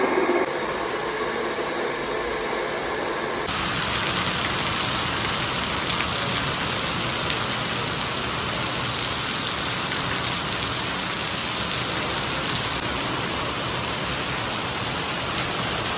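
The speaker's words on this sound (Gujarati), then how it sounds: "વરસાદ જો વરસાદ આ શેરી આખી દેખાતી નથી એટલો જળબંબાકાર" Heavy rain pours steadily in a dense, even hiss over a flooded village street, with a brief change in tone near the start and faint traffic rumble underneath.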